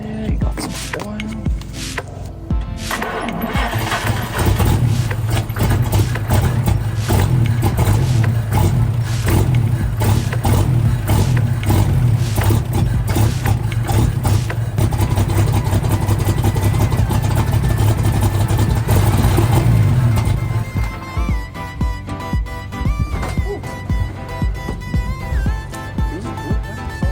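A 1952 Chevrolet 235 engine with an exhaust leak idles, then runs up with a rough, raspy roar and a ticking, puffing exhaust note, settling back down near the end.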